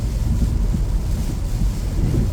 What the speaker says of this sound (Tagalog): yan tumutunog ang tubig